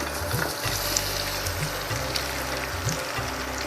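Mixed vegetables with ginger sautéing in a pan for a diet soup, a steady close sizzle with faint stirring scrapes and no talking.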